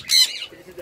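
A parrot at a wildlife spot in Ella, Sri Lanka gives one short, harsh squawk up close, followed by faint low murmuring.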